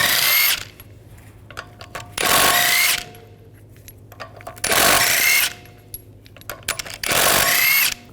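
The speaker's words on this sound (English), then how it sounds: "We're going to remove the wheel, use a 17mm socket," Power tool with a 17mm socket removing lug bolts from a rear wheel of a 2010-2014 Volkswagen GTI, firing in four loud, close bursts of about half a second each, separated by quiet pauses.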